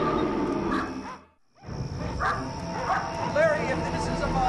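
A pack of savage dogs barks and yips in a TV drama scene, several sharp close barks breaking out after a brief pause, with voices talking over them.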